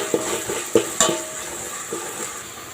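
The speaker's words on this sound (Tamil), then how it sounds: "லோ ஃப்ளேமில் வச்சு கிளற வேண்டும்." Ginger garlic paste and a green chili are stirred in a pan over a low flame, giving soft scraping strokes with a few sharp metallic clinks of the spoon against the pan. The sound is quiet and close, with no voices.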